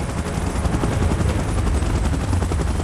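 Helicopter in the PUBG Mobile video game, a steady loud rotor chop with rapid rhythmic thumping, mixed with bursts resembling gunfire, continuous throughout.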